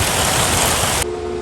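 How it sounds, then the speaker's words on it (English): Heavy rain pours steadily in a dense, loud hiss, then drops abruptly to a quieter wash of rainfall. "we're getting a big rain going through the area"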